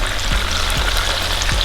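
Snails with pepper frying in a pan give a continuous close sizzle, with a few soft stirring scrapes of a utensil and no talking.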